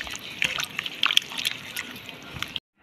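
Water poured into a gram flour mixture, a continuous close sloshing trickle with small splashes that stops abruptly near the end.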